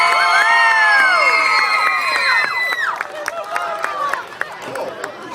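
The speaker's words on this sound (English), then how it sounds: "one more big round of applause for Light Switch" At a Halloween kids' costume contest, a crowd cheers for a child dressed as a light switch. High excited shouts and whoops come first, then scattered clapping and chatter follow as the cheering eases.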